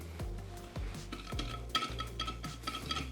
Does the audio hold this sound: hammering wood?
no